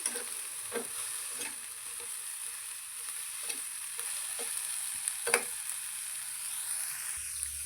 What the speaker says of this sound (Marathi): हे सगळं व्यवस्थित भाजून घ्यायचं आहे आपल्याला